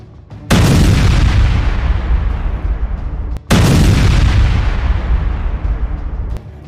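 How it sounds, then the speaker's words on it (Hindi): Two huge explosions from a missile striking the rear ammunition depot of a Merkava tank in southern Lebanon, each a sudden loud broadband boom that rumbles and slowly fades, the second arriving about three seconds after the first. "वीडियो में दिखाया गया है कि कैसे मिसाइल ने टैंक के पीछे के गोला बारूद डिपो पर हमला किया।"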